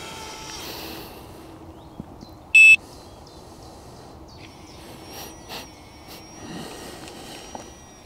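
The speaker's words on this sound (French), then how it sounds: "vous avez un verrouillage mécanique du vélo qui s'opère" Lemmo One MK2 electric city bike locking its mechanical lock and arming its alarm, giving one short, sharp electronic beep partway through against a quiet room background.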